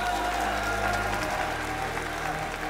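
A large crowd applauds at the Gamer Assembly 2024 League of Legends tournament final in a big hall, a dense, sustained roar of clapping at steady loudness with a low rumble beneath.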